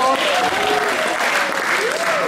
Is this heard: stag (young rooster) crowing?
no